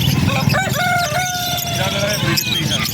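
Rooster among pet birds for sale at a market, crowing loudly and near in a drawn-out call over a busy background of other birds and clucking, with faint voices nearby.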